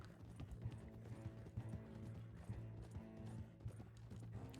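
Horse hooves in Red Dead Redemption 2, a steady rapid galloping clip-clop with faint mechanical rattling underneath, heard alone without talk.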